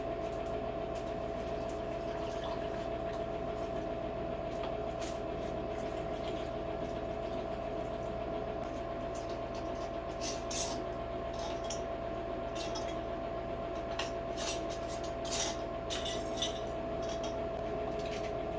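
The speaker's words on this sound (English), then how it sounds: "please pardon the sound of the dehydrator in the background" A food dehydrator drones steadily in the background of a home kitchen during pear canning, with occasional light clinks of jars and utensils on top.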